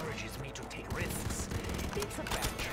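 Rapid gunfire from the Ram 7 in Black Ops 3 Zombies on a custom map rattles continuously under players chatting.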